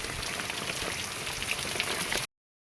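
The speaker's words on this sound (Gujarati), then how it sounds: "તે જો અહીંયા ટીપા પડે છે નીચે" Water from a torn drip irrigation pipe patters and drips steadily onto the ground in a field, a close, dense spatter that cuts off abruptly.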